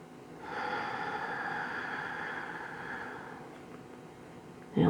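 A deep inhale during a lower-back exercise, a long, breathy draw of air lasting about three seconds, fairly close, followed by a short sharp sound at the end.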